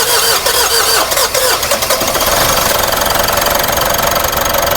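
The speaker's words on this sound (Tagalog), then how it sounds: "Ito, papandarin natin and sana umandar mga boss." A Mitsubishi Montero that had stalled with a very dirty fuel filter cranks with a rapid, loud starter chatter, then catches and settles into a close, rough, steady engine roar.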